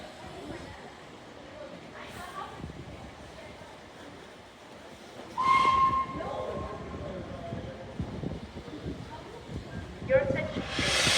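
The Flying Scotsman steam locomotive departs York station, hissing and rumbling, with a brief whistle sounding midway and another near the end, while people talk nearby.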